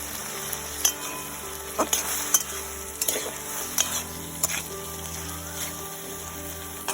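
Bay leaf pieces go into a pan of cooked bottle melon (lauki) for a shrimp dish, giving a quiet continuous sizzle with occasional spoon taps and clicks over a low steady kitchen hum.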